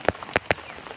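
Rain falling outdoors as a women's group walks through it: a few sharp, close drops strike in quick succession over a soft patter, with no voices.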